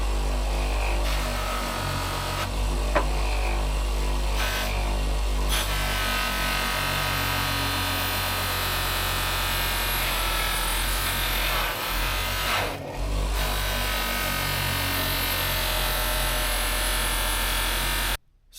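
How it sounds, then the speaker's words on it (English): A polishing wheel buffs a chrome bicycle fork with harsh polish, giving a steady close motor drone with a grinding rub that holds through the whole stretch, no voices. "So I'm on the polishing wheel now, starting off with a fairly harsh polish first."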